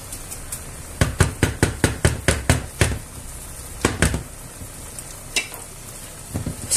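Spanish savoury rice being stirred and spread in a pan: a quick run of sharp, rhythmic spoon knocks and scrapes against the pan, then a few slower strokes, over a faint, steady sizzle.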